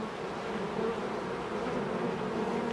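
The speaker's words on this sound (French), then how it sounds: "Elles sont pas du tout violentes, hein, ces abeilles." Honeybees hum steadily at an open beehive, a dense, continuous drone close by that holds level throughout with no voices over it.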